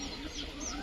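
Chickens clucking faintly at a distance in a rural yard with goats nearby, a brief soft run of clucks over low background murmur.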